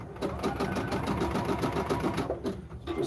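A sewing machine runs continuously while stitching fabric knee pads, its needle clattering in a fast, even rhythm close by with no pauses.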